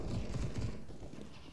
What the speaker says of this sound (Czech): To je ten kůň, ten mě tak triggeruje.